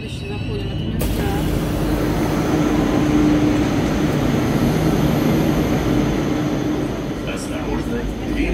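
A themed Moscow metro train runs underground, a loud steady rumble and rail roar that swells and eases slightly across the stretch, with a voice briefly present.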